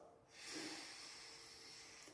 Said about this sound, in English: Is that a sniff?